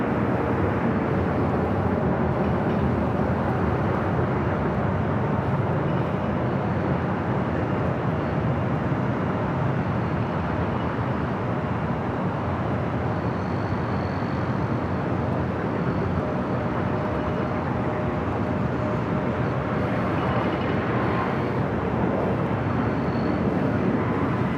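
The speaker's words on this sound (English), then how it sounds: "Here, Air New Zealand arriving there on the south side, 25 left." Air New Zealand airliner arriving on runway 25 left at LAX, a steady, moderately loud rumbling engine roar that stays even across the whole stretch, with no voices.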